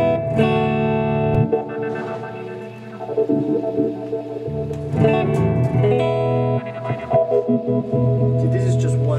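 Electric guitar playing sustained chords through a heavy distortion effect with lush, swirling pad-like texture and reverb, loud and continuous with brief breaks.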